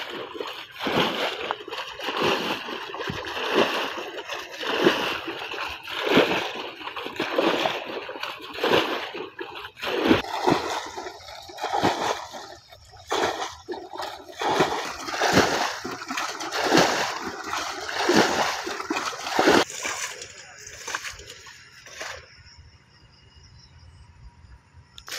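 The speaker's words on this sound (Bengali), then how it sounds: "সেটি দিয়ে পানি সেচ হইতেছে" Water is bailed out of a village pond to drain it for fishing, making repeated rhythmic splashes and sloshes, moderately close, that continue steadily before easing off near the end.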